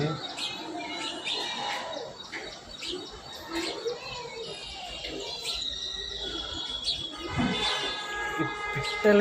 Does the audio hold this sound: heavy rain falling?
no